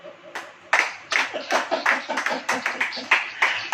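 A church congregation claps hands together during a sermon in a steady, rhythmic beat of sharp claps, close and fairly loud, with voices faintly audible underneath.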